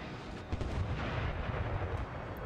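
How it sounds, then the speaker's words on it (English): Distant artillery fire in Napoleon: Total War, with howitzers firing on a battlefield, heard as a continuous dense rumble with a few soft booms rising over steady noise. "hear some more artillery fire somewhere in the distance"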